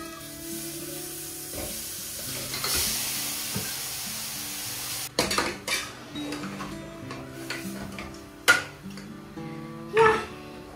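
Mutton being stirred into fried onions in a pan for mutton curry, scraping spoon clatters and metallic knocks against the pan over a soft sizzle, with a few louder clanks near the end.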